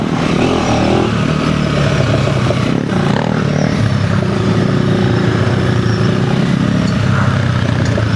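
An off-road dual-sport motorcycle (Honda CRF300L or KTM 390 Enduro R) ridden on a trail in third gear, its engine droning steadily up close with rising and falling revs and some clatter over rough ground.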